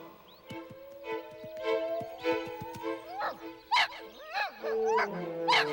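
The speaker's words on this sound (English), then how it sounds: "That howling's coming from the empty shack. Sounds like some dog's in trouble." A trapped dog in a cartoon whimpers and yips in rising, wavering howls from an empty shack, close by, while a low steady hum and rhythmic ticking run underneath.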